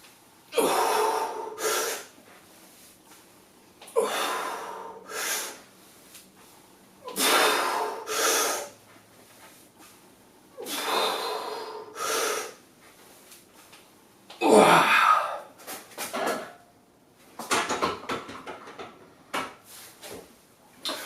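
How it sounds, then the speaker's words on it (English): Deep, forceful breaths during a weightlifting exercise, loud close inhales and exhales repeating every couple of seconds, with a strained gasp midway and a few shorter puffs toward the end. "So again, deep breath in."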